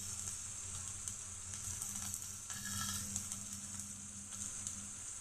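Turmeric and chili powder sizzle steadily in hot oil in a pan, a continuous bright frying hiss with a low hum beneath, close and even throughout with no talking.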